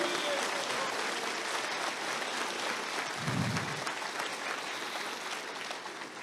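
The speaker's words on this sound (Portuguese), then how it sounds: "Você pode dar uma salva de palmas aí para o teu Deus," Applause from a church congregation during a sermon, fairly faint and distant clapping that stays steady, with a brief low thump partway through.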